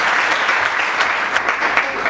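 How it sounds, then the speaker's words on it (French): An audience applauds candidates at a startup competition TV show, dense steady clapping at fairly loud level for a couple of seconds with no speech. "Sous l'applaudissement."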